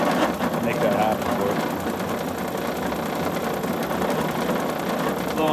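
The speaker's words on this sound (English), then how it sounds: "That's the condenser fan." The condenser fan of a 1953 Magic Chef room air conditioner with a Tecumseh compressor runs with a steady, slightly rattly mechanical hum and a fine rapid ticking, while a person talks over it.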